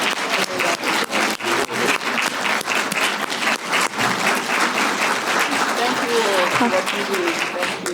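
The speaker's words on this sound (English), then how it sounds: "One more round of applause." An audience at an alliance meeting session applauds, with loud, rhythmic clapping throughout and faint voices mixed into the crowd noise.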